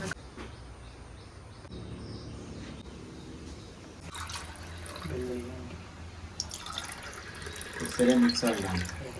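Herbal decoction of pepper, ginger and garlic coming to a boil in a pot, soft bubbling and dripping liquid sounds, fairly close, under a person talking, with a louder burst of bubbling near the end.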